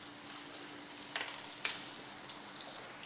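Fish fries in a pan with a steady, soft sizzle that holds throughout, broken by a few faint clicks and taps of cooking, and no one speaks.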